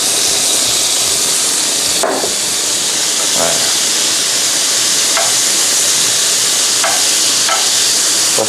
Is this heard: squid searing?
yes